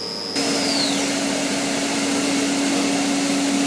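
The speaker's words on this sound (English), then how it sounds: "Chamfer all the small holes here." Steady machining drone of a tool chamfering small holes in a Lamborghini V10 engine part, loud and continuous with a constant low hum and a brief high whine that slides down near the start.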